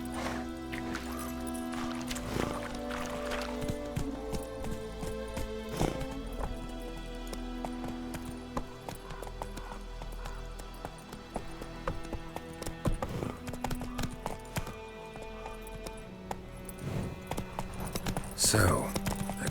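Hooves of the horse Roach clip-clop at a gallop in The Witcher 3, rhythmic and mid-distance beneath game music, with a brief whinny and some talk near the end.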